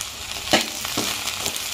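Okra deep frying in hot oil for a Karnataka-style bendekai gojju, a steady close sizzle with a few sharper stirring or spatter bursts and no talk.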